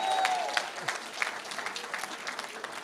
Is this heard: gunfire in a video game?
no